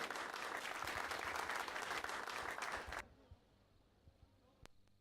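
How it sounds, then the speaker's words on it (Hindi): A crowd at a Guru Purnima gathering at a cow shelter in Nagaur applauds Swami ji with loud, sustained clapping that stops abruptly, leaving quiet room noise with a few stray thumps. "जोरदार तालियां बजाएंगे पूज्य स्वामी जी के लिए"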